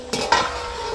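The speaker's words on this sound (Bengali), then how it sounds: "এবার ঢাকা দিয়ে দেবো।" A metal lid set down on a kadai of steaming water where carrot-filled pithe are being steamed on a stand, two quick clanks followed by a soft ringing hiss.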